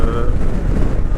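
Strong wind buffets the microphone during a motorcycle ride on the Isle of Man Mountain Course at the Manx Grand Prix, a continuous low roar, loud and close, with faint voices underneath.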